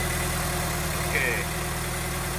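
A car engine idles steadily after a Perrin crank pulley has been fitted, a constant low hum and rumble running through the whole stretch with little change in level.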